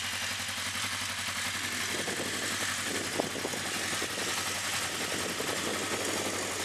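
A 1981 Honda CB650 Custom motorcycle with four pipes idles nearby, its engine giving a steady, even rumble with a faint mechanical clatter and no talking.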